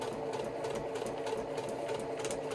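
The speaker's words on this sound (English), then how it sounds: "And I'm just sewing right on that line between 1 and 2." Sewing machine stitching a quilt block on a very tiny stitch length, a steady fast mechanical whir with rapid needle ticks running continuously and close.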